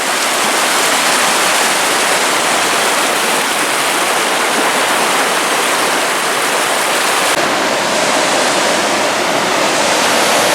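Rainbow Falls in Gorges State Park roars continuously, a dense, loud rush of falling water with no pauses.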